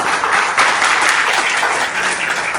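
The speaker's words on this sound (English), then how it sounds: "So I want you to clap all for yourself." A conference audience at an ICSI motivation and life skills session bursts into loud, close, dense applause that fills the short moment without a break.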